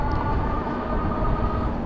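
A train runs alongside a rail trail, producing a steady, broad rumble with a low, continuous roar that holds even throughout, fairly close and loud.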